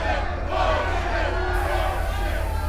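An angry crowd of guests screams and shouts without a break, a dense and loud roar of many voices with a steady low rumble underneath.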